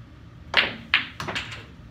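Pool balls in a 9-ball game, with a cue strike and two close, crisp clacks as balls collide in a combination shot, followed by softer knocks as they roll and drop.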